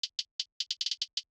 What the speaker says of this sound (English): I used a hat pattern that I made for a beat a while back and never used.